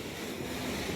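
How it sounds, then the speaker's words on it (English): Steady, dense roar of wind mixed with surf under a seaside pier on a rainy beach, loud and unbroken throughout, with no speech. "It's usually really windy under the pier,"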